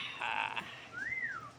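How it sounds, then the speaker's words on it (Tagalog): A person whistles a short melodic phrase by a swimming spot, two steady held tones followed by a single rising-then-falling glide, fairly close and clear over faint background noise. "Sumisipol pa nga."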